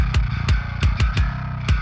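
Bass line in a metal guitar mix, its low end sidechained so it ducks on each kick drum hit; deep sustained tones pump and dip rhythmically under punchy, repeated kicks, with no voices.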